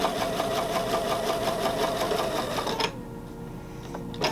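A sewing machine runs a quilt seam for an Attic Window block, a fast steady mechanical whir and tapping stitch rhythm, close and loud, which stops abruptly near the end and leaves a quiet hum and a small click.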